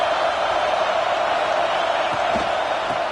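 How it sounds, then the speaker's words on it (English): A packed stadium crowd roars continuously during a football game, a dense, loud wall of cheering and noise with scattered whoops and no break. "Listen to this crowd just shaking the girders of this place"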